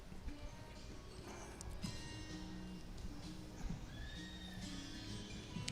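A roan horse whinnies at a rodeo barrel race amid a steady arena din, with a few hoof clip-clops and faint voices in the background.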